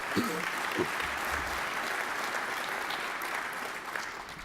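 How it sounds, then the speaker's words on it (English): Sustained applause from a conference audience at an opening ceremony for service and industry keynotes, a steady broadband wash of many hands clapping, fairly distant, with a brief voice near the start. "Really fantastic presentations, worthy of another round of applause, please."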